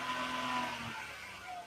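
A Nissan 400Z engine drones steadily, its intake and turbo whooshing at a moderate distance, a sustained tonal hum that eases back partway through without any clear sharp revving.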